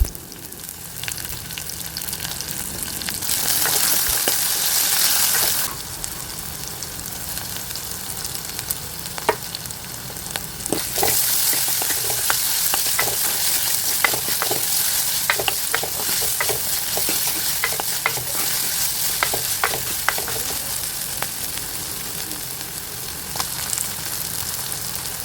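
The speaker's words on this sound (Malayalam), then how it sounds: "പച്ചമുളക് ഇട്ടതിന് ശേഷം നല്ലതായിട്ടൊന്ന് ഇളക്കി കൊടുക്കുക." Onion and green chillies frying in a pan for a Kerala fish curry, a steady sizzle broken by repeated scraping and clinking stir strokes, close and fairly loud, with no talking.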